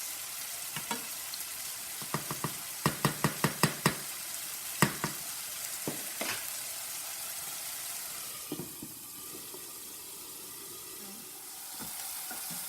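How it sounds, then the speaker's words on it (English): Sauce sizzling steadily in a pan, with a cluster of sharp utensil clicks and taps early on and a few scattered knocks later. "you can see that the sauce is still frying"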